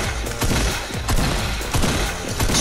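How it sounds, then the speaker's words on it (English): Rapid, dense gunfire from the video game Fortnite: overlapping bursts of shots crackle loudly and nearly continuously for a few seconds, with no talking. "Stop shooting me, fucking bot!"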